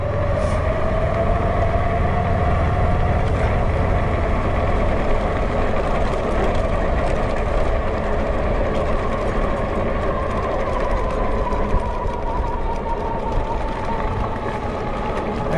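A Wallke H6 ST folding dual-battery electric bike riding up a gravel road: a steady motor whine that slowly changes pitch over constant tire crunch and wind rumble, close and continuous.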